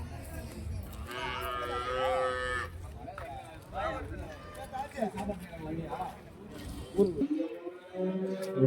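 A cow at a cattle market in Vaniyambadi lets out a long, loud moo close by, followed by scattered voices chatting and a second, shorter bellow near the end.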